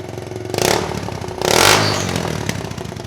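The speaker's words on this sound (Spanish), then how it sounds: "la moto suene así, ¿no? Porque suena bastante gamberra" A Daelim Daystar motorcycle engine runs loud and rough, revving up twice in quick bursts with a raspy, clattering exhaust.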